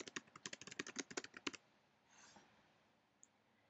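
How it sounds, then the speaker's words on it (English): Quick bursts of computer keyboard typing enter a question into a Google Form, about twenty close, crisp key clicks in a fast run over a second and a half, then near silence with one faint click. "Let's type our first question"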